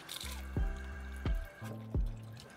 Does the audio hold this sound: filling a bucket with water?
yes